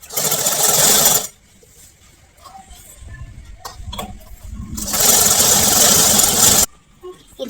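Sewing machine stitching a double-folded seam on a baby kaftan, loud steady whirring runs that stop and restart, with quieter handling noises in the pause between.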